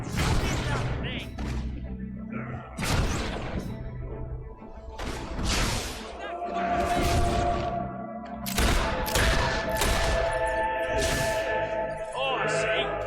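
Bursts of gunfire in the Fable 3 video game, with several sharp shots and crashes over game music, mixed with talking.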